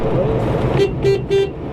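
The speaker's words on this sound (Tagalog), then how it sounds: "Lakas din ng busina niya." A Bestune Pony electric car's horn honks several short times in quick succession, loud and close, over the hum of the running vehicle.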